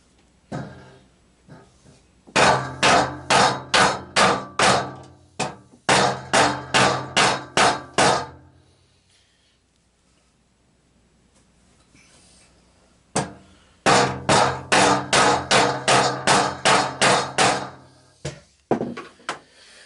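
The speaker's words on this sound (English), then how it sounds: "Beat on the bottom of the shaft using a rubber hammer, a brass hammer" Rapid bursts of sharp hammer blows on the bottom of a metal shaft, using a rubber or brass hammer during mower deck assembly, ring out in clusters of about eight to twelve strikes, pausing between series, close and loud.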